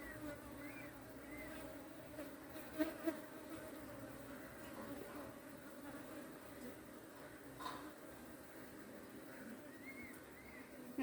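Honey bees buzz around a hive being checked, a faint steady hum with individual bees whining past now and then and a few soft knocks.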